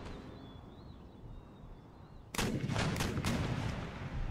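Artillery fire in an Empire: Total War battle starts after quiet ambience with a sudden loud cannon blast, then keeps going as a dense rumbling barrage of booms and cracks.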